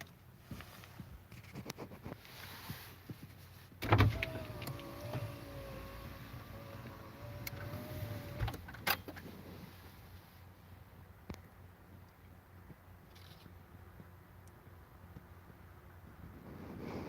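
The freighter Cuyahoga's engines make a faint, distant low rumble on a quiet day. Light wind brushes the microphone, and a few soft knocks and a brief tonal whine appear partway through.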